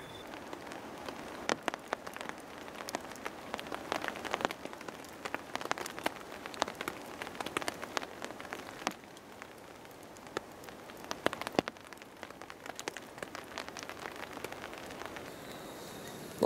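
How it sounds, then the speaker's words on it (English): Light rain falls in the bush, a faint, continuous patter of scattered drops ticking irregularly on leaves and surfaces, with no voices. "So it started to rain last night, just light rain."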